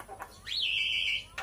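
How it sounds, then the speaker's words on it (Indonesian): A Javan myna gives one clear rising whistle that levels off and holds for most of a second, close and alone, with faint murmurs around it. "Nah, itu tadi yang burung punya Bang Aris."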